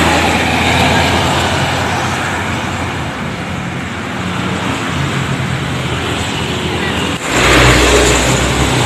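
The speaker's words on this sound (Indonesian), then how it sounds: "sepertinya bus pariwisata" A tour bus rolls past on a damaged, sunken road amid steady roadway traffic, its engine and tyre roar loud and close throughout, with a heavier thump and rumble near the end as it lurches over the broken surface.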